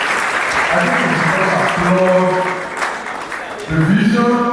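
An audience at a matriculation ceremony claps in a dense, sustained burst of applause, while a speaker talks over the clapping and the applause swells again near the end.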